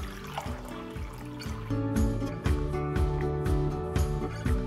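Water being poured from a cup into a container for homemade dog wet wipes, a continuous gurgling, splashing stream close by with a few bubbling bursts, alone without talk.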